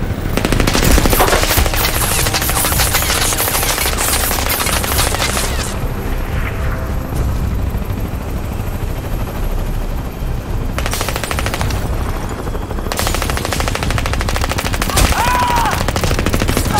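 Machine gun fire from a helicopter in the video game Crysis 2, a loud continuous rattling barrage with booming impacts that eases off briefly midway and then surges again.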